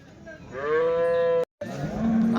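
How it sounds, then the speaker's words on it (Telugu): An Ongole cow at the Punganur cattle market gives a loud, close moo that rises and holds, breaks off abruptly, then a second lower moo begins amid market background noise. "ఒంగోలు ఆవు అండి"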